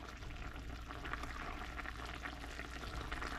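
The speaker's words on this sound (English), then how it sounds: "we just keep stirring occasionally" Chicken cheesy garlic pasta bubbles and sizzles in a pan while it is stirred now and then. A dense, even simmering crackle fills the whole moment without pause, and there is no talking.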